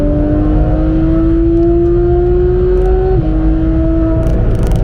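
Porsche 991 GT3 driving fast on the Nürburgring during a Touristenfahrten session: a loud, steady, high engine note climbs gradually, drops briefly at one gear change, then holds strong.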